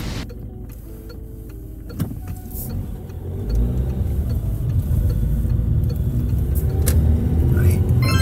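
A car pulls away on a country road, its mid-range engine rising steadily as it accelerates from a quiet start, the hum growing louder and more constant toward the end.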